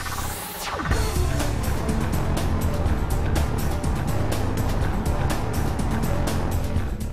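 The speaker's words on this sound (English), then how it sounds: "Lift your foot off the brake and the car accelerates to its max." A 2009 Porsche Cayman launches hard under launch control, its engine roaring loudly and continuously after a brief quieter start, with rapid shifts and rough mechanical texture throughout.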